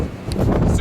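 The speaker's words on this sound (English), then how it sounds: "super windy" Steady, low rumbling wind buffets the microphone in a continuous roar, loud and close, with faint rustling above it, on the summit of Big Bald Mountain on the Appalachian Trail.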